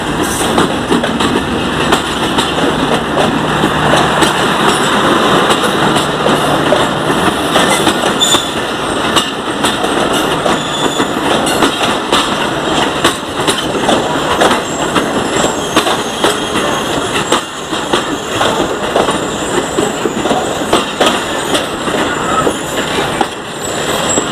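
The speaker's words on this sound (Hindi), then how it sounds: "6005 इंजन है जो इसको लीड कर रहा है" A Pakistan Railways passenger train bound for Karachi, led by locomotive 6005, rolls steadily past close by, with a continuous loud rumble, wheel clatter and squeal over rail joints throughout.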